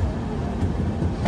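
A passenger train rumbles past in a steady, moderately loud broadband roar with low rhythmic thumps, heard from near an Indian railway station with no talking.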